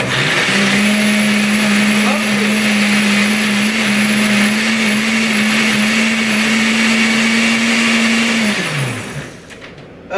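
A blender whirs loudly and steadily as it mixes a meal replacement shake, running for about eight seconds before winding down.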